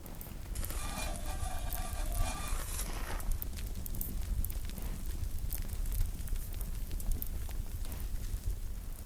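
A wood fire burns outdoors beside a clay testi pot, warming it for a meat and dried plum kebab. It gives a steady, close crackle and hiss throughout, with no talking.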